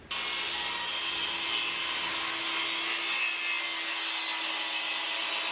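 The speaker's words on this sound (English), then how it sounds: "So I need to cut this down real quick to the 2 1/4" Steady, continuous sawing through a 1x8 wooden trim board, ripping it to width for bookcase trim; a loud, even rasp of the blade in the wood runs without a break for the whole stretch, with no talking.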